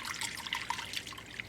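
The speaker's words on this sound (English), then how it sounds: "now we're just going to whisk that together" Egg and water being whisked together in a bowl for an apple pie wash, a quick wet rapid clicking and sloshing, soft and close with no talk.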